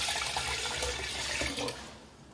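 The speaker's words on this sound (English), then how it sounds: "I'm gonna add a little bit more water to loosen it up." Water pours into banku dough with a short, close splashing rush that tails off, quiet and alone.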